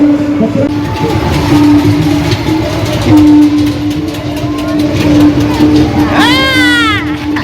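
A small fairground ride train at a large fair on a railway ground in Dombivli West rumbles along with a steady mechanical hum and clatter, crowd voices around it, and a cat-like whine near the end.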